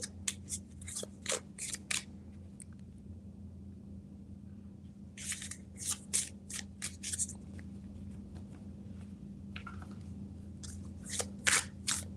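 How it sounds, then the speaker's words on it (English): Tarot cards are shuffled in quick bursts of crisp riffling and flicking, close and fairly soft, with pauses between bursts and a steady low electrical hum underneath. "Just clearing my cards of all of the energy."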